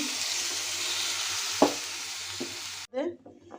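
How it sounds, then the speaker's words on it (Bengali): Milk poured over paneer and grated carrot in a hot pan gives a steady, close hissing sizzle with a couple of soft clicks, then the sound cuts off abruptly near the end. "এইটা তার উপরে আমি দুধই ঢেলে দিচ্ছি"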